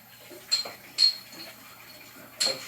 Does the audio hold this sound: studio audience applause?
no